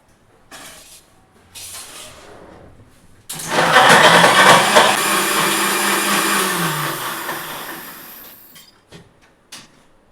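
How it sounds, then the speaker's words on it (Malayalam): An electric mixer grinder roars to life after a few seconds, blending a dates milkshake, running loud and steady for about five seconds before cutting off, with small clicks around it. "അപ്പം മിക്സി ഓണാക്കാണ്"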